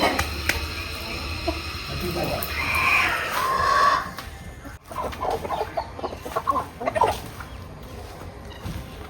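Fighting-breed chickens cluck close by in a busy, overlapping flock while feeding, with soft scratching and shuffling around them.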